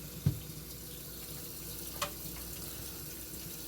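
A kitchen tap runs into the sink while dishes are rinsed, a steady low wash of water broken by a sharp clunk near the start and a faint clink about two seconds in.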